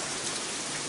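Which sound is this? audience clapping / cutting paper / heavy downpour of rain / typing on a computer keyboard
heavy downpour of rain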